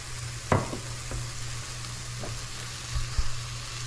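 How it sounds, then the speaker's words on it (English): Peppers, garlic and onions sizzle steadily in a pan for Cajun fried rice while red beans go in, with a few soft clatters and stirring knocks over the constant frying hiss; no talking. "Next, we're going to add our red beans"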